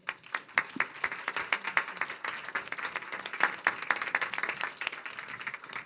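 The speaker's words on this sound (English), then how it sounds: "And thank you to our panel. Can we get a round of applause?" A conference audience claps for a panel at a summit on Indigenous spectrum rights, steady moderate applause from a modest crowd with distinct individual claps, sustained evenly before tapering slightly.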